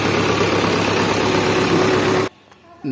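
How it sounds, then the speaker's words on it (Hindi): A Mahindra 585 DI tractor engine runs with a loud, steady close-up rumble, then cuts off abruptly near the end, leaving near silence. "ये देखिए जी ट्रैक्टर की स्टार्टिंग बढ़िया स्टार्टिंग बिल्कुल कोई दिक्कत नहीं है"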